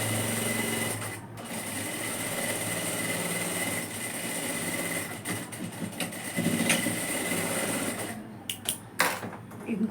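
Sewing machine stitching a kurti, a continuous close motor whir with fast needle chatter, broken by brief pauses and handling clicks near the end.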